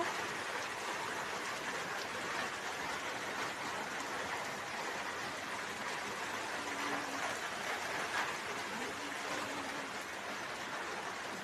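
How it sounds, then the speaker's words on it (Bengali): Steady rain hisses in a dense, even wash of noise that holds throughout with no breaks. No one is speaking. "একটু বৃষ্টি নেমেছে গো"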